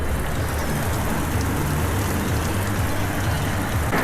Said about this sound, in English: it started pissing down out here